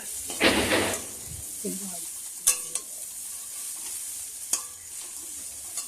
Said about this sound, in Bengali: দশ মিনিট নাড়তে হবে এটাকে ভালো করে